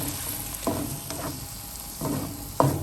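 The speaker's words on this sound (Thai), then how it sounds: "แล้วก็เอาหมูเนื้อหมูที่ต้มไว้ลงผัดค่ะ ผัดก่อน" Boiled pork stir-fried with curry paste in a pan, heard as a continuous sizzle with several scraping stirs of a utensil against the pan, close by and with no talking.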